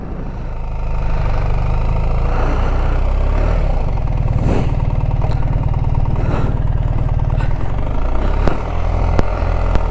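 A 2023 BMW R1300GS motorcycle riding at steady speed, its engine droning loud and continuous with wind rush throughout, close to the rider.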